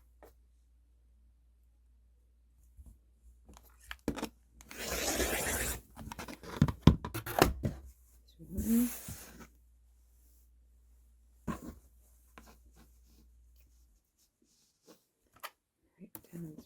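Rotary cutter or blade trimming a quilted log cabin block along marked lines, a few scraping cutting strokes in short bursts, close and moderately loud amid quiet pauses.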